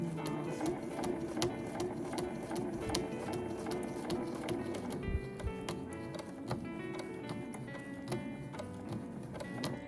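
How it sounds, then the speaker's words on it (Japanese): A sewing machine stitches a quilted fabric bag in a steady, rapid mechanical clatter, moderately close and continuous throughout. "スピードを落としながら縫っていってください。"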